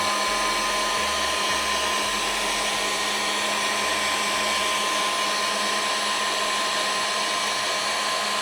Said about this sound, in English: And with my heat gun, this really works perfectly.